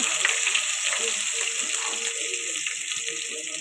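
A small piece of ginger frying in a pan for uggani gives a steady close sizzling hiss that continues throughout, with a quiet voice faintly underneath.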